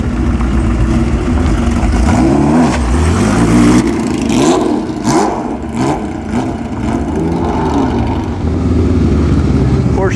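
A classic Porsche rolls over a speed bump at a car show, its mid-pitched engine revving steadily and loudly throughout, with people talking over it.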